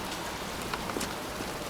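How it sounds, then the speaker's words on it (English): Pouring rain falls in a cemetery in the video game Heavy Rain, a dense, steady hiss of drops with no speech. "standing in a cemetery in pouring rain"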